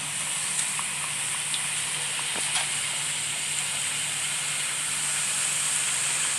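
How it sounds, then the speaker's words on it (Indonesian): Kue kuping gajah cookies deep-fry in hot oil, giving a steady soft hiss and sizzle with a few faint pops and crackles and no talking. "Nah, kalau udah panas, langsung kita goreng kue kuping gajahnya."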